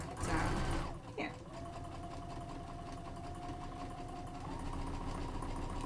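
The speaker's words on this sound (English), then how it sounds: "And I'm going to sew down here." A sewing machine runs a quarter-inch quilt seam on half square triangles, starting with a burst of handling noise and then settling into a steady, close mechanical hum that rises slightly toward the end.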